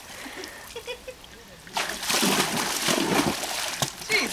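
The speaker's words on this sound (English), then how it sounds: "And Star is thoroughly enjoying the water today." Faint quiet water sounds, then a burst of splashing and sloshing as a dog moves energetically through shallow water, continuing in uneven bursts.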